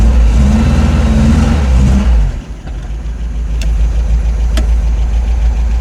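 A tired MGB GT being revived, its engine idling low and rough before loading up as it is put in first gear and pulls away, a steady close mid-pitched drone with a brief dip and a couple of faint clicks.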